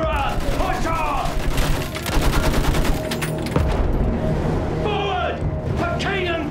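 Gunfire, including machine gun bursts, in the World War I video game Battlefield 1, as dense rapid volleys run nearly throughout, mixed with battle noise and shouted voices.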